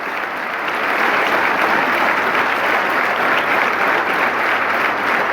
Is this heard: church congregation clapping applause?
yes